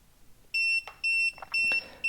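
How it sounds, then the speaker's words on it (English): A FireTEK FTQ-16x64 pyrotechnic firing module gives four loud, steady electronic beeps about half a second apart as it counts down into arm mode, with faint clicks and handling between the tones. "I push and hold forward for 10 seconds and it's going to beep at me and put it in arm mode"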